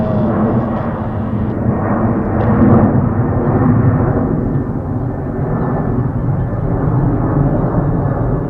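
A heavy jet airliner roaring down the runway on takeoff at JFK airport, a steady, loud, broad rumble that swells slightly and holds throughout.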